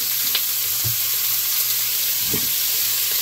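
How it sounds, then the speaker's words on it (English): Sausage sizzles in a preheated pan, a steady bright frying hiss with a few soft clicks of stirring, close and continuous with no talking. "I'm going to go ahead and add in my sausage"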